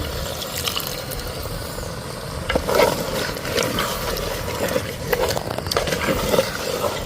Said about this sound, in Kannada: ನಾನಲ್ಲ ಒಂತೆ ನೀರು ಪಾಡೋಂದ್ರೇನು